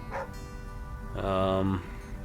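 A dog barks in the survival video game The Flame in the Flood, a couple of short yelps followed by a longer, louder whining bark, heard alone over a low game background.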